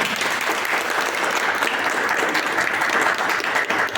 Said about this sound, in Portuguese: gente, uma salva de palmas aos nossos professores.